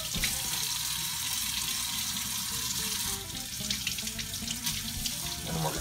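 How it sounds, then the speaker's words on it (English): Cold tap water runs steadily into a sink while brined salmon is rinsed under it, a continuous splashing hiss that shifts in tone midway as the flow hits the fish, with no talking. "We're going to rinse the brine off under cold water."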